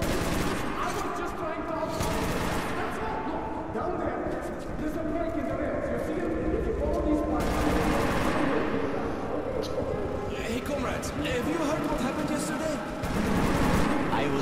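Dense, continuous gunfire from the Metro 2033 video game, rapid bursts and volleys filling the whole stretch at close range, with a player talking over the shooting.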